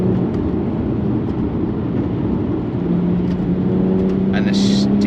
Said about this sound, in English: Listen to that powertrain.